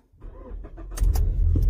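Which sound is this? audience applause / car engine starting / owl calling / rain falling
car engine starting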